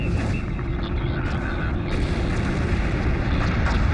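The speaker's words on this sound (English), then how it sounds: "Prepare for immediate surface bombardment." Orbital surface bombardment in Homeworld Remastered produces a continuous, loud rumble of overlapping explosions, with a dense low roar and crackling bursts.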